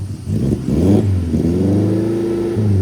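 A car engine revs hard at high throttle while the car struggles up a steep uphill stretch of the Pessel–Solok road, a close, steady roar whose pitch rises and holds through the whole stretch, with no talking.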